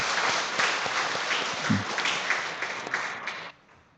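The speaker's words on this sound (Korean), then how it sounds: "우리 박수로 격려해 주시죠" A Sunday morning church congregation in Saipan applauds in encouragement, a steady wash of many hands clapping at moderate volume that cuts off abruptly near the end, leaving near silence.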